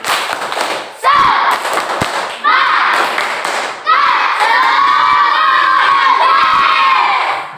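Schoolchildren in an Indonesian classroom chant and cheer together in a class clap chant about health, loud, close and crowded, in several bursts separated by brief pauses, with sharp claps and thumps mixed into the shouting.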